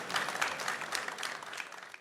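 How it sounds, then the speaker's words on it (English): Steady clapping rises from the audience at a mobility industry CEO roundtable, applauding the speakers, soft and somewhat distant, fading toward the end. "I would like to invite a round of applause for all of them"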